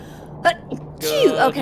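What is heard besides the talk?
sneeze during Barotrauma voice chat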